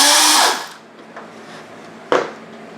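A power tool spins off a bolt on the front timing cover of a 2007 Saturn Vue 3.5L, a loud close whir that winds down, followed by a short sharp burst of the tool.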